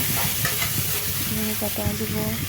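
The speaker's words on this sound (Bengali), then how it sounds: "পেঁয়াজ দিয়েছি তো একটু ভাজতে লাগবে ভালো মতো" Onions sizzle steadily in a hot pan, a continuous crackling hiss with occasional stirring scrapes and clinks.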